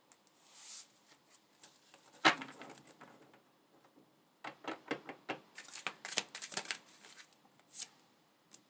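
Tarot cards being shuffled by hand: a soft early riffle, one sharp slap, then a busy run of quick papery flutters and snaps, close and fairly quiet with no talking.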